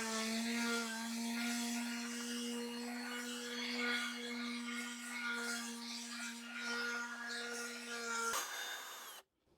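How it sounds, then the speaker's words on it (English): Scrap wood being sanded with 80 grit sandpaper by what sounds like a power sander: a steady droning motor hum with a gritty rasp runs unbroken for about eight seconds, then cuts off abruptly. "I sand everything with 80 grit, just enough to remove splinters and rust spots"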